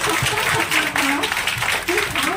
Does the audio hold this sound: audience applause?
yes